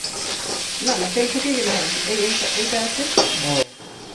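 Crab frying in a pan with turmeric and salt, a steady close sizzle with stirring scrapes, and a voice talking over it before the sound cuts off abruptly near the end.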